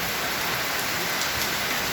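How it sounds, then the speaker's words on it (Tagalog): Heavy rain pours steadily in a dense, even wash of noise with no breaks, loud and close, and no voices over it. "Update lang ito sa malakas na ulan guys."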